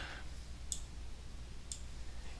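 Two sharp mouse clicks about a second apart, crisp and close, over a faint steady hum with no talking.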